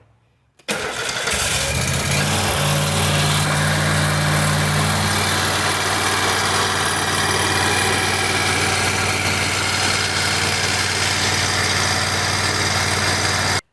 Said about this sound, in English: I'm going to fire it up.